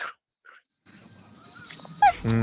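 A puppy whimpers in short, high, thin whines, then gives a sharper yelp near the end over low background rumble and handling noise; no one speaks.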